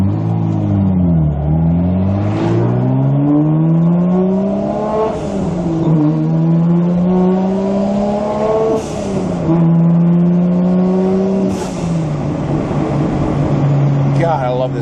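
Toyota Supra engine revving hard while driving with the window down, pitch climbing through each gear then dropping at shifts, loud and close from inside the cabin with a voice talking over it.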